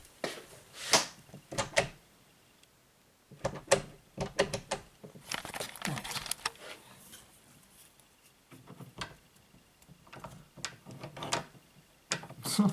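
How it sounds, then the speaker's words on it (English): Door opening in a horror video game, a series of sharp clicks, rattles and knocks in short bursts with quieter gaps, close and fairly loud, no talk. "Let's open the door."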